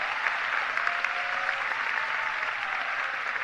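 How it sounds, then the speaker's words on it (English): Steady applause from a large crowd fills the whole stretch, dense and even, with occasional louder claps standing out; no speech. "Please give yourselves a round of applause."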